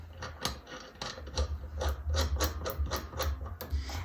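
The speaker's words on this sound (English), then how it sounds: "I'm going to screw in this part for the socket" A metal socket part being screwed into a lamp cap by hand makes faint, close, rhythmic scraping and rubbing strokes, repeated steadily over a few seconds with no talk.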